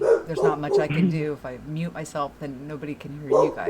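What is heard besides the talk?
dog barking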